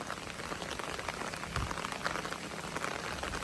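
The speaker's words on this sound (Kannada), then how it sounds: "ಅಷ್ಟು ಜೋರು ಮಳೆ ಬಂದಿದೆ" Heavy rain pours down in a steady, dense hiss of drops striking surfaces, continuous and even from start to finish with no voices.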